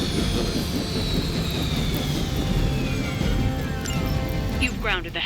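A helicopter in the video game Midnight Suns drones steadily with a loud, continuous rotor-and-engine roar throughout, its pitch sliding gradually downward as a voice speaks over it.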